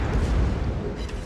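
A warship's naval gunfire in a video game lands as a heavy, booming blast with a deep rumbling tail, one dense burst filling the short moment.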